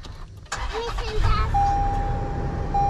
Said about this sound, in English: I'll start the truck for you